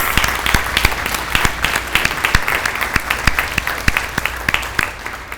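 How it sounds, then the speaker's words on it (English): Loud, close applause from an audience at an education event, a thick wash of clapping with individual sharp claps standing out and tapering slightly near the end. "Would you please stand so we can give you a round of applause?"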